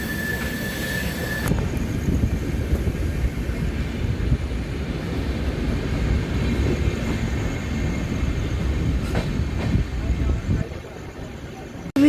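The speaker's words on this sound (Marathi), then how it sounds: "तर मित्रांनो हे बघा त्या साईडला एक एक्सप्रेस ट्रेन आहे." At night, an express train runs alongside a moving Siddheshwar Express passenger train, making a loud, continuous rolling rumble with rail clatter that holds steady for about eleven seconds before cutting off.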